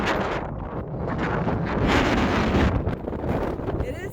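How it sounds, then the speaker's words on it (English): Strong wind buffeting the microphone high on a mountain near the Cirque of Towers in Wyoming, a loud continuous roar with gusting swells throughout. "It is so windy up here"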